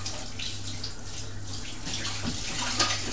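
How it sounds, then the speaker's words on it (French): Apples are rinsed under a running kitchen tap, giving a steady close splashing hiss of water over the fruit. There is no talking. "Maintenant, ce qu'on va attaquer, c'est donc les fameuses pommes. Je vais juste rincer là."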